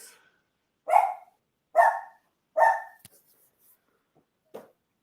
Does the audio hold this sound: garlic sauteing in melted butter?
no